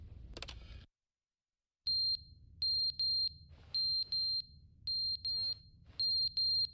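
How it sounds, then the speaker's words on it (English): Fire alarm in The Stanley Parable, a string of shrill electronic beeps in short uneven bursts with brief gaps, following a quiet pause after a short noisy start. "The fire alarm is going off."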